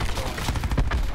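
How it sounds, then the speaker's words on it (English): Cluster grenade blasts go off in a rapid, overlapping string of sharp pops in a video game firefight, close and dense, packed into about a second. "Cluster grenade."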